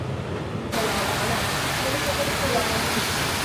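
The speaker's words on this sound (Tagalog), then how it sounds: "Ang lakas ng ulan." Heavy rain pours down steadily in Ho Chi Minh City, Vietnam, as a dense, loud, continuous hiss that swells after a brief quieter opening.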